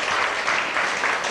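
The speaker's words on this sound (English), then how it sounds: "Get that applause going" Steady audience applause from a live comedy and ventriloquism show fills the whole moment, dense clapping with no pauses.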